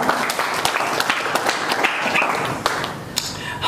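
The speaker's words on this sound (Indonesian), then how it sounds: "berikan dulu tepuk tangan yang mulia untuk Tuhan kita." Church congregation clapping in praise during an evangelical sermon, loud, close handclaps in a brisk uneven rhythm with scattered louder claps throughout.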